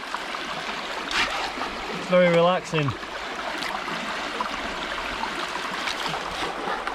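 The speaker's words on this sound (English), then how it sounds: "It's great sluicing, isn't it? Just listening to the water." Water runs steadily through a gold panning sluice in a UK stream, a continuous near rush and trickle that fills the whole stretch, with a voice speaking briefly over it partway through.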